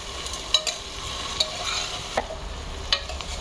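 Onion and tomato being sautéed in a pan, with soft frying sizzle under sharp scraping stirs of a spoon against the pan at irregular intervals, no talking.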